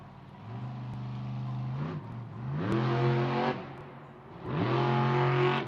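Jester monster truck from Osteen, Florida, roaring onto an arena track, its big engine revving in three rising surges with strong harmonic growl, loud and close, no talk over it.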